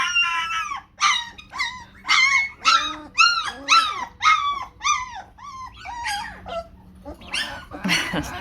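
Maremma puppies yip and whine in a rapid series of high, wavering cries, close by, with short pauses between bursts.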